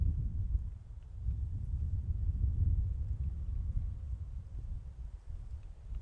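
Strong wind gusting across the 7th tee at Muscat Hills golf course in Oman, a low, steady rumble and buffeting against the microphone that swells and eases over several seconds, with no voices.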